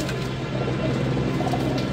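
Domestic pigeons, about ten birds including spotted and golden ones, give a steady low cooing close by, with no other sounds over it.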